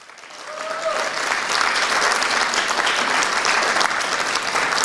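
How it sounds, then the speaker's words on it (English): Audience applause at a live event, swelling from a quiet start into sustained, dense clapping that holds steady to the end. "A round of applause for her, please."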